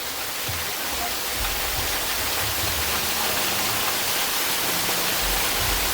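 Steady, broadband rush of water fills the whole stretch, a constant roar like a fast stream echoing inside the Waghbil cave near Badlapur, with no clear speech.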